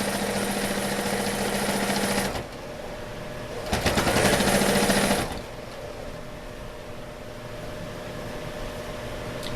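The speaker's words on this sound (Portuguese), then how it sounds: "vou voltar a costurar lá do início" A sewing machine runs steadily, stitching bias binding onto fabric for a kitchen organizer, with a loud continuous motor whir that stops briefly, restarts for a second run, then drops to a lower hum.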